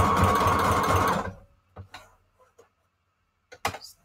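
A sewing machine runs a zigzag stitch around the edge of a paper journal in one steady buzzing burst of about a second. It stops, and soft handling clicks and taps follow.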